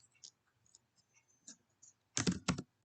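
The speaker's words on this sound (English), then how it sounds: "So you can click on the text tool and type something." Computer mouse and keyboard in a quiet room: scattered faint clicks, then a short, louder burst of close key presses near the end.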